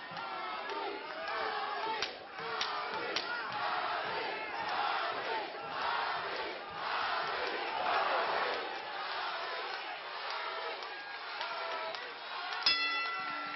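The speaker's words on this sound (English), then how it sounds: "And the crowd is on their feet here at the Ameristar Casino" A boxing crowd at Ameristar Casino cheers and yells in a sustained roar from a packed hall, rising and falling through the fight with a bell ding near the end, under a commentator's voice.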